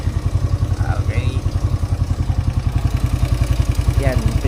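A motorcycle engine idles steadily at close range with a fast, even putter throughout. Faint chirps are heard in the background.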